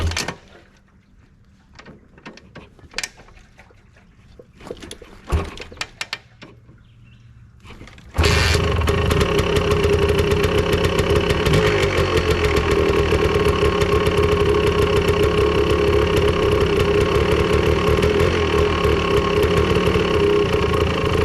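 After some quiet fumbling and a few clicks and knocks, a Honda ATC 250R three-wheeler's engine catches and runs loud and steady close by, a continuous rapid two-stroke rattle and buzz that holds for the rest of the clip.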